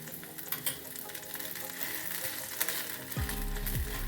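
Rice and green garlic aayte sizzle steadily in hot oil on a pan after being flipped, a dense continuous frying hiss with a low hum joining in near the end.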